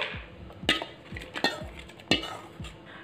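Watermelon chunks being tipped back into a mixer jar: a few sharp clinks and knocks spaced about a second apart, with soft dull thuds under quiet kitchen background, no talking.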